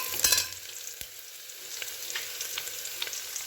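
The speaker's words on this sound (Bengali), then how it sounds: "ডিমগুলো একটু লাল লাল করে ভেজে নিচ্ছি ভালো করে" Eggs browning in hot oil alongside onion and garlic in a pan, a steady close sizzle with a brief louder burst of crackling near the start, then light scraping and spattering continuing without speech.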